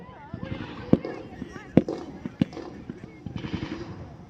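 Gunfire during a military assault: several sharp, cracking shots ring out at irregular intervals, moderately loud against a noisy background with someone talking throughout.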